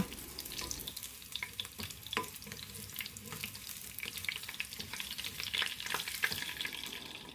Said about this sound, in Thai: พอเราทอดไข่ได้เหลืองทั่วถึงแบบนี้แล้วก็ตักขึ้นได้เลยนะคะ